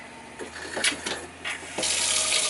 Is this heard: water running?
yes